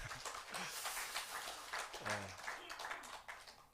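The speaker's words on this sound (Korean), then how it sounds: "박수 하시겠습니다." A church congregation claps at an elder's ordination service, a dense, steady wash of hands throughout, with some voices mixed in.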